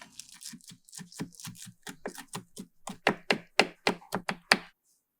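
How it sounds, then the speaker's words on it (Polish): Knife finely chopping bacon or other breakfast ingredients on a board for an egg and potato dish, a steady run of about twenty crisp, close taps that grow louder toward the end, with no talk. "Drobno posiekaj."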